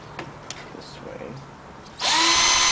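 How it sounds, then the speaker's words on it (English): A power tool grinds down a part during a headlight angel-eye install on a 1997 BMW E39 540i, a loud steady high whine that starts suddenly near the end after quieter handling sounds. "Grind that down."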